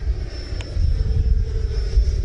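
A Horizon Hobby electric RC jet flying at half throttle gives a steady, loud whooshing drone with a faint high whine, close by and continuous for a couple of seconds, no voices.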